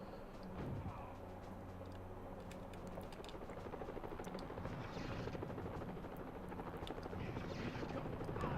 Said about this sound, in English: We need to try to spawn those helicopters before we enter the last section